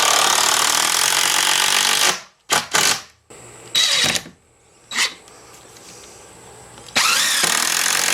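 An impact driver sets screws into a door knob and deadbolt lock set in a few short, sharp, rattling bursts separated by quiet gaps. Louder broadband noise opens and closes the stretch.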